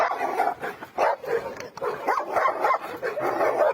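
A dog barks aggressively behind a barrier, its barks and whimpering yips repeating in close, loud bursts throughout.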